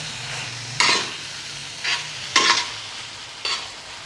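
Beef liver frying on a flat tawa griddle, a steady low sizzle broken by four sharp bursts of spatter and stirring, close and fairly loud with no talk.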